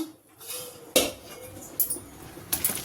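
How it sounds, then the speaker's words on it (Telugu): Fried eggs dropped into a pot of simmering egg and onion pulusu, a few quiet clinking knocks and sharp metallic taps of a spoon on a pot, close by, scattered over about three seconds with no talking. "ఫ్రై చేసుకున్న గుడ్లు వేసుకుందాం"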